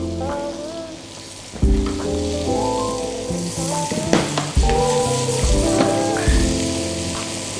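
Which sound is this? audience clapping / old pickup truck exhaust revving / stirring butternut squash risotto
stirring butternut squash risotto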